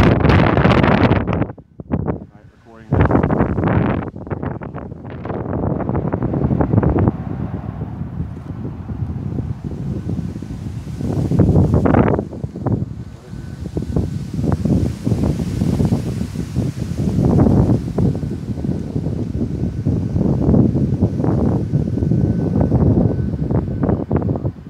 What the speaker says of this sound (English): This wind is just really coming down though.